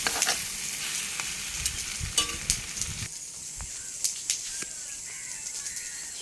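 Curry in a pan, with coconut oil poured in, is stirred over a fire, giving a close sizzle with scraping strokes that thins out partway through.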